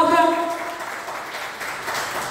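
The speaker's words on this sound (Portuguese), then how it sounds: "Você pode aplaudir a ele se você crê nessa palavra." A church congregation applauds, a spread of clapping that starts under a brief voice and carries on steadily, moderately loud and fairly close, tapering slightly toward the end.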